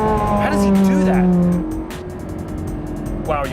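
An exotic car's engine drones loud and close at a steady high pitch, then cuts away as tires and road noise rush past, with a second brief rising engine note near the end on a race track.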